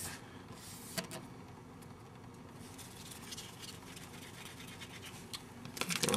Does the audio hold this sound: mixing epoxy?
yes